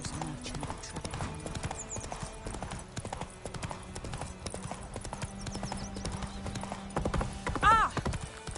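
Roach, the horse in The Witcher 3, gallops with rapid, steady clip-clopping hoofbeats amid game ambience, joined near the end by a short sharp whinny or cry and faint background voices.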